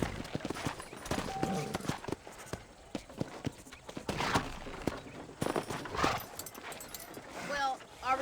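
Horse hooves clip-clopping at a walk in the Red Dead Redemption video game, a steady run of soft, quiet knocks that sits under frequent character dialogue and background game ambience.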